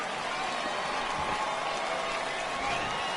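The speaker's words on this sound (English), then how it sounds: "And the home crowd going crazy" Home crowd at a minor-league baseball game cheers and applauds in a dense, steady roar heard from a distance, with faint talk mixed in.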